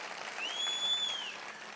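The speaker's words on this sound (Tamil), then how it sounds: "ஆர்ப்பரிச்சு கைதட்டுற ஒரு கூட்டத்தை காட்டுறா" A crowd at Seeman's political rally breaks into a brief burst of steady applause, with a thin whistle-like tone rising above the clapping.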